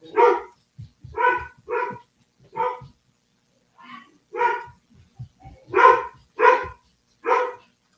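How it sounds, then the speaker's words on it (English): A newly arrived dog barking indoors, about ten loud, sharp barks in irregular bursts, some in quick pairs, with brief quiet gaps between them. "That's the new dog, who apparently nobody knows how to get it to shut up."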